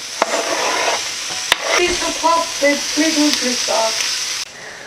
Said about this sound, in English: So now put the onions and garlic in the pan and caramelize them like a boss.